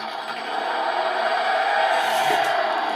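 A 1/16-scale RC military truck fitted with an ESC and engine sound unit revs steadily, its motor note holding loud and close for the whole stretch with no talk over it.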